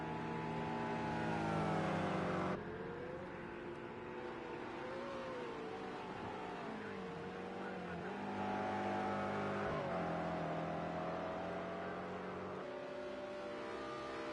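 A BMW M6 race car in Project CARS 2 at Watkins Glen holds a loud, steady engine drone, rising and dropping in pitch through gear changes and throttle lifts as it warms up for a fast lap.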